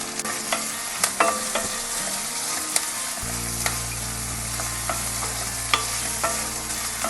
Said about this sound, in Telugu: ఒక్క టూ మినిట్స్ ఆనియన్స్ని ఇలా ఫ్రై చేసుకోవాలి